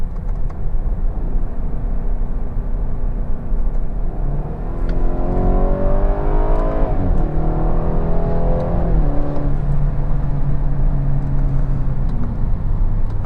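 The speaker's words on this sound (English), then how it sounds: "I'll do some downshifts here." A 2017 BMW 430i in Sport mode, its engine revving and blipping through a series of downshifts while driving, loud and close from inside the car with steady road rumble beneath and rising and falling engine pitch.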